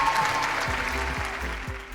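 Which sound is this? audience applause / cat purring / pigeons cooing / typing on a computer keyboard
audience applause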